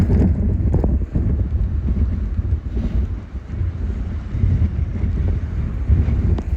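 Strong 40 mph wind on a New Jersey bay buffets the microphone with a loud, steady roar, and water sloshing can be heard beneath it throughout.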